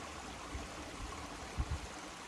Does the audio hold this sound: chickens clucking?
no